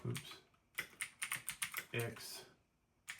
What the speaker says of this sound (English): in the search bar, we need to type in